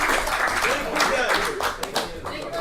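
An audience at a Shenmue 3 post-launch celebration event in Burbank, California applauds the cast and crew, with dense clapping mixed with crowd voices.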